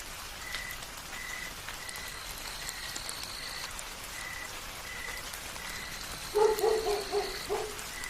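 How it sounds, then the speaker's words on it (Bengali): Light drizzle falls at night as a soft, even hiss throughout, with a brief cluster of frog croaks breaking through near the end. "এখন হালকা ঝিরঝিরে বৃষ্টি পড়ছে।"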